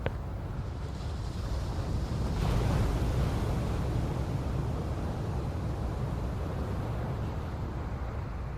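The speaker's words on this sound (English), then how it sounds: "with sunlight dancing on the surface and languid waves rolling past." Broad rolling ocean surf, a loud continuous wash of waves with steady rumbling noise and slight wind, swelling a little near the middle, with no voices.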